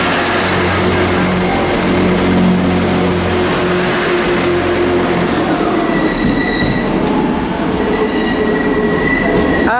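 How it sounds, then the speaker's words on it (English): A Transport for Wales class 158 diesel unit, 158837, passes at Shrewsbury on a service from Birmingham International to Holyhead. It makes a loud, continuous rumble with squealing wheels that rings out high as the train goes by, with no speech. "the 12:25 Transport for Wales service to Holyhead from Birmingham International at 158837 only"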